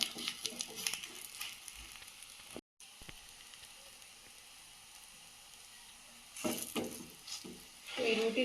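Thin roti frying with sugar in a pan, a soft sizzle with stirring and scraping that stops briefly and then returns in louder bursts, close and fairly quiet.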